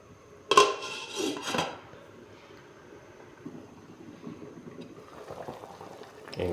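Mackerel soup with moringa leaves and green chili bubbles in a pot, opening with a few sharp clanks of a lid and utensil, then a soft steady boil rolling quietly underneath.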